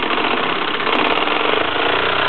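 A Mamod SP8 James Watt toy steam beam engine running fast, a loud continuous chuffing and mechanical rattle with a rapid regular beat, close and without talking.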